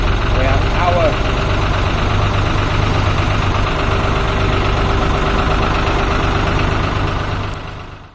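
A narrowboat engine idles loud and close, a steady low mechanical throb with a faint knocking rhythm that runs unbroken before fading out at the end.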